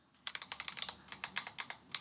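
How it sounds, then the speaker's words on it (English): Rapid clicking from a Razer Huntsman mechanical keyboard, about twenty crisp, close keystrokes in quick irregular succession, with no voices. "You can hear the clicks."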